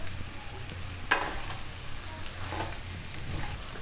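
Sabudana khichdi with mixed vegetables sizzles in a pan over medium heat, a steady soft frying hiss broken by a sharp scrape or clink of stirring near the start.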